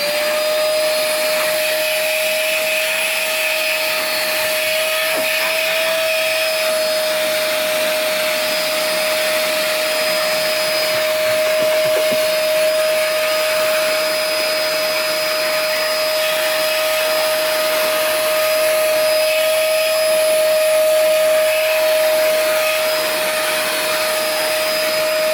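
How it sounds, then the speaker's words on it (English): A vacuum cleaner drones loud and steady, whining without pause, while cleaning out the bulb spots of a 1967 Williams Blast Off pinball machine. "we're going to take the vacuum again and vacuum out these spots where the bulbs are"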